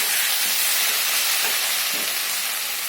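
Broth poured into a fried spice masala sizzles and hisses steadily and loudly close up, with a few soft splashes and no voices.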